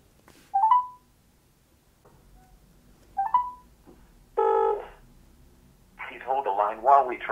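A phone call on loudspeaker connects, with short electronic tones and beeps followed by a burst of a tonal signal and then an automated voice starting to play.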